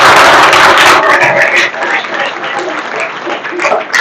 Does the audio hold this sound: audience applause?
yes